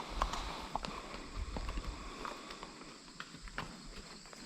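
A horse walks outdoors on a trail ride, its hooves making faint, irregular clip-clop steps close by, with light rustling and a low breeze underneath and no talking.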